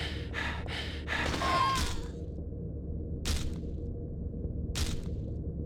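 Heavy, loud breathing from a character in the Silent Hill 3 video game, a few ragged breaths early on followed by two short sharp exhalations later, over a low droning ambient background.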